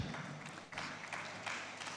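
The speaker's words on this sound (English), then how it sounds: "Thank you for your applause." Conference audience applause rolls on as a quiet, distant patter of many hands, steady with slight swells.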